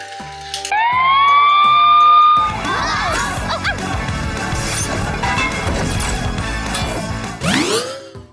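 A PAW Patrol toy fire truck is pulled back and released, giving a rising electronic siren wail, then a long rattling whir as it rolls across a surface, ending with a last sweeping siren burst.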